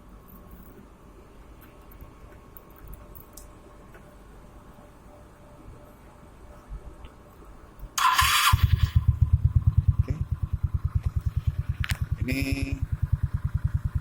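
After a quiet stretch, a 17-year-old Suzuki Spin 125 scooter engine fitted with an RX King carburetor suddenly fires up and settles into a steady, rhythmic putter, with a short revving burst later; brief speech at the start.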